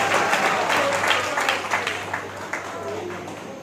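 Audience applause at a Hindi lecture and poetry recitation event, a dense steady clapping that fades slightly toward the end, with faint voices mixed in.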